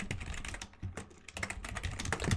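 Rapid typing on a computer keyboard while entering a formula, a dense run of close, crisp key clicks with brief pauses, no speech.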